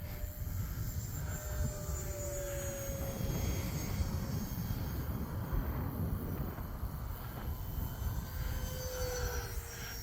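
E-flite Habu SS 50mm electric ducted-fan model jet flying in strong wind, its thin whine passing at moderate distance with steady gusty wind noise throughout.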